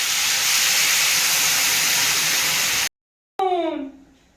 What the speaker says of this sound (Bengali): তরকারিটা এবার জল দিয়ে দেবো।